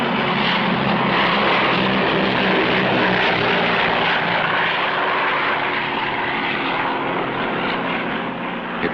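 Airplane engine on landing approach, a steady loud drone that holds without a break, with no talking.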